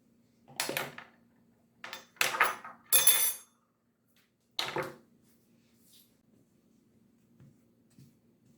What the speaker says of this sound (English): So we are mixing to combine all the ingredients that we have just added.